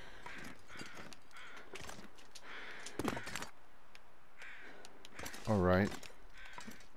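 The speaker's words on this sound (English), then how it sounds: "I thought that was crows indicating some sort of frozen something" Crows caw in the snowy wilderness of The Long Dark, a few raspy calls scattered across the clip, partly under a man's speech, with one louder close cry near the end.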